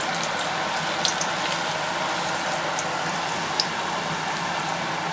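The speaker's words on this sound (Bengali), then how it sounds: "তেলও গরম হয়ে গেছে, ভালো ধোয়া উঠছে। এবারে আমরা এক একটা করে ভাজবো।" Kochuri, stuffed fried breads, sizzle in hot oil with a steady, dense, close crackling hiss, even and unbroken throughout, with no talk.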